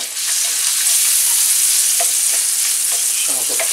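Red onion sautés in a pan for seafood paella, giving a steady, close, loud sizzle with occasional scraping stirs, no voices.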